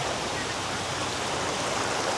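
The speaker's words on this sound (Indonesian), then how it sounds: "kita coba turun ke sungai" A river in a valley campsite flows steadily, a broad, even wash of running water heard close and moderately loud, with no talk.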